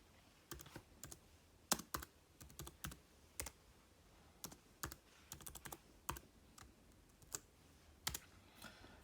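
Keys clatter on a Mac computer keyboard while typing a command in the terminal, irregular crisp clicks in small bursts and single taps, close and fairly quiet.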